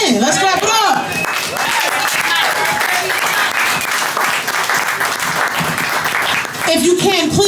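Loud audience applause and cheering fill a poetry slam venue after the scores are read, steady clapping from a large crowd with voices and whoops mixed in, continuing for several seconds.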